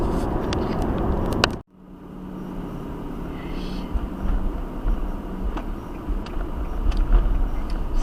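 A car cruising on the highway at 58 miles per hour toward Deming, with steady loud road and engine rumble inside the cabin, briefly dropping out for a moment before resuming as constant wind and tire noise.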